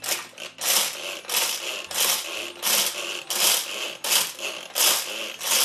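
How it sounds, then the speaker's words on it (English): A manual pull-cord food chopper on a rubber-footed base crushes candy canes, giving repeated loud crunching, rattling bursts about every half second, each pull a gritty chop of hard candy shards rattling inside the bowl. "With each pull, there's more chopping, and the candy canes are crushed up even more."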